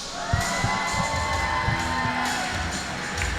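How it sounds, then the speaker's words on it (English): Crowd at a STIHL Timbersports women's championship event in Milwaukee cheering and whooping steadily, with a few claps and shouts poking through a continuous roar of voices. "Big round of applause for Roger Phelps."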